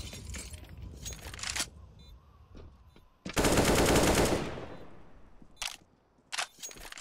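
Automatic gunfire in Counter-Strike on the de_nuke map, several bursts with one long sustained spray in the middle, loud and close, separated by quieter gaps and game ambience with no talk.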